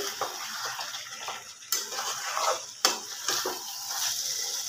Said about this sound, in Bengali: আবার আমি মাংসটাকে ভালোভাবে কষিয়ে নেব